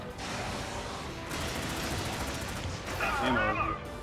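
Gunfire in the co-op video game Helldivers, a dense fusillade of rapid shots with a short rhythmic burst in the middle and a brief electronic warble near the end, loud and close.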